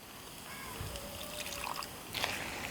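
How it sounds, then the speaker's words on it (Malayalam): Water poured into mashed potato for a potato masala curry, a soft trickling splash near the end over a quiet kitchen background, with faint dripping before it. "ഇത്തിരി വെള്ളം കൂടി ഒഴിച്ചിട്ട് അതും കൂടി കൊണ്ട് ഒഴിച്ചു കൊടുക്കുക"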